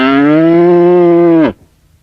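A single loud, close cow moo on a village cattle farm, one long sustained bellow lasting about a second and a half before cutting off into near silence.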